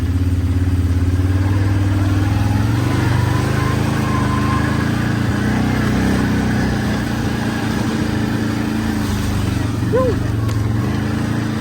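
A quad bike engine drones steadily and loudly as it churns through a muddy passage on a rural track, a continuous rumble with slight changes in pitch and a voice over it.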